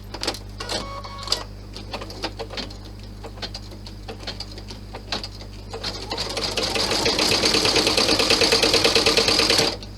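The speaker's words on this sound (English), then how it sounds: "Lower your needle into the bag and stitch it down." Sewing machine stitching down a clutch bag, at first in short stop-start bursts of rapid needle ticking, then running continuously, louder and faster, for the last few seconds.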